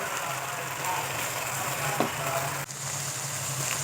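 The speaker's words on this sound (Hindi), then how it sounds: "मसालों की अच्छे से भुनाई हो गई है" Red chili, turmeric, garam masala, salt and cumin roast for aloo keema in a hot pan, giving a steady close sizzle with a faint stir or scrape partway through.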